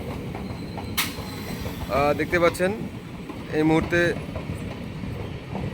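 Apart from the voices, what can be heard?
MEMU passenger train departing Cossimbazar station platform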